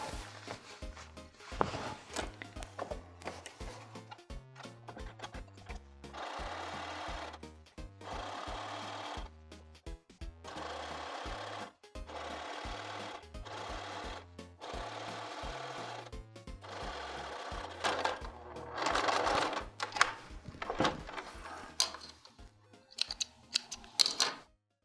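A sewing machine hems the leg of a pair of jeans, running in repeated rhythmic bursts of rapid stitching with short pauses between, close and fairly quiet, with no talking.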